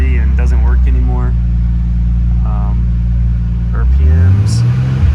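Turbocharged 1998 Nissan Skyline R34 GTT engine heard from inside the cabin, a steady low rumble that swells and climbs in pitch near the end, with people talking over it.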